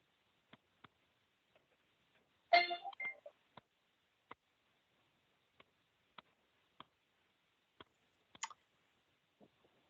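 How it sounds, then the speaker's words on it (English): Telephone dialing tones while joining a call: a series of short, faint separate beeps spaced irregularly across the stretch, with one brief louder burst of clatter near the start. "I'm gonna dial in, so give me one moment."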